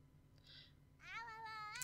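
Two meows from a Savannah cat in a life-simulation game, a short mew followed by a longer, louder wavering cry, close and clear over a faint low background hum.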